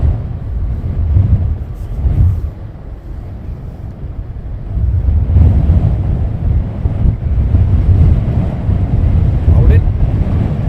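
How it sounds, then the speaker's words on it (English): Gusty wind buffeting the microphone outdoors at Luton Airport, a steady low roar that swells and eases for the whole stretch, loud and close. "Certainly is blowy."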